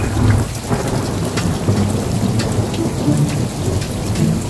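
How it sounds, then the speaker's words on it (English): Heavy rain pours down steadily with rumbling thunder during an outdoor thunderstorm with hail, loud and constant with no voices. "then it starts raining and thunderstorms and hailstorms"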